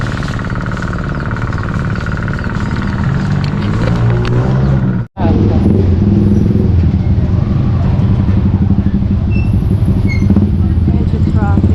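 Steady road traffic at a barangay fiesta in Gemasan, with engine rumble and passing vehicles running continuously and fairly loud, broken by one brief dropout midway.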